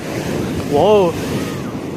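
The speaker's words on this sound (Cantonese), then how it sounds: "哇好高啊啲浪" High sea waves surge and crash against a rocky shore, a continuous rushing roar with wind buffeting the microphone, and a man's short exclamation cutting in briefly.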